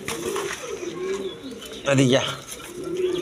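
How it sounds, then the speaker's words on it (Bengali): A pair of shirting pigeons coo in soft, rolling calls close by, with a louder burst partway through, while someone talks over them. "প্রথমে এক পেয়ার শার্টিং কবুতর দেখাইতেছি"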